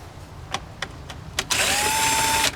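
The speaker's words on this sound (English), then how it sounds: "instead of using a ratchet on the end of this Torx bit, I'm going to use my drill" A few sharp clicks of handling, then a power drill driving a Torx bit on a Tesla Model X whirs loudly for about a second before stopping abruptly.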